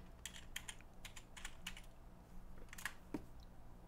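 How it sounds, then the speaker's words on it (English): Quiet typing on a computer keyboard, with scattered individual keystrokes clicking over a low background hum for a few seconds and nothing else prominent. "It would freaking help if I type the right button."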